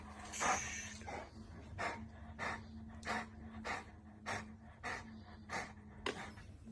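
Rottweiler panting in a steady rhythm of quick, breathy huffs, close and fairly loud, repeating about once every half second with a low hum underneath.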